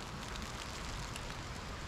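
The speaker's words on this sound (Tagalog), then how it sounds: "Lakas na ng ulan." Heavy rain pours steadily at Bomod-Ok waterfalls in Sagada, a dense, constant hiss of falling water filling the scene without pause.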